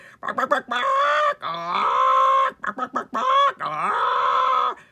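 A human voice imitates a chicken, strutting and clucking in a series of repeated, nasal, squawky clucks with short pauses between them, close and clear.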